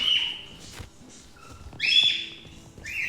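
Whistling in the video game 3008: a few bright, shrill whistled tones, rising and sliding, repeated in short bursts, close and clear with no talk.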